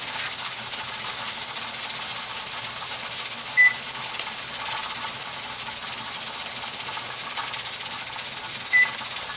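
A pressure canner full of corn hisses steadily with escaping steam, a continuous loud hiss with the weight barely wobbling, with faint brief chirps twice, no talking.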